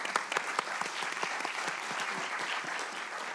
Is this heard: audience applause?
yes